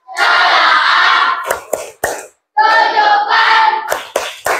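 A class group performs a rhythmic tepuk clapping chant, chanted voices in short bursts punctuated by sharp, loud, close claps, with brief pauses between phrases.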